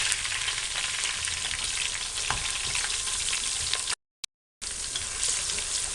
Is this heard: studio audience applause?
no